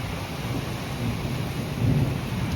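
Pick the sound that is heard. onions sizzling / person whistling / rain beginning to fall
rain beginning to fall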